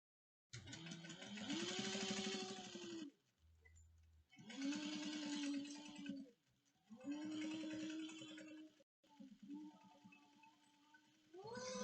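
A sewing machine stitches a bag in four bursts of steady whirring, each a few seconds long, with short quiet pauses between them as the fabric is pivoted and back-stitched.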